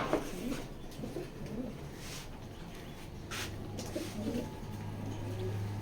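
Racing pigeons coo softly nearby while a female bird is held in the hand, low rolling calls recurring among faint rustles and handling noise.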